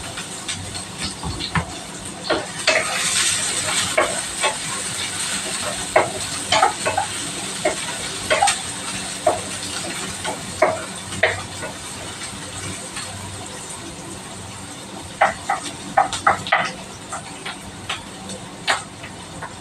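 Onion and garlic sautéing in a pan for adobong kangkong, a continuous sizzle and hiss under a voice speaking, broken by frequent sharp clicks and scrapes of a utensil stirring against the pan.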